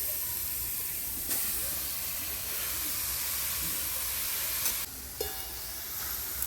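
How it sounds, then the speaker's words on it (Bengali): Grated carrot stirred in a hot dry wok for carrot halwa, a steady soft hiss with a couple of sharp scraping clicks from the stirring. "আমি শুকনো কড়াইতে আমি গাজরটা যে গ্রেট করে নিয়েছিলাম ওটা আমি দিয়ে দিচ্ছি"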